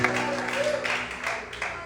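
Church congregation applauding steadily in a large worship hall, a continuous wash of clapping that runs throughout with a sustained musical tone and voices blended underneath.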